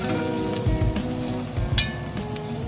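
Steady frying sizzle from vegetables nearly done in a hot pan, close and fairly loud, with occasional clinks and stirring bumps.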